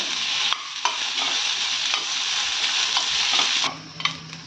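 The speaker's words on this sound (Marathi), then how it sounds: "कांदा भाजताना त्यामध्ये थोडा तेल घालायचा त्यामुळे कांदा आपला लवकर फ्राय होतो" Onion and garlic frying in oil in a pan for a dry mutton masala, a close sizzle with repeated stirring scrapes, ending in a few sharper clanks as the sizzle drops.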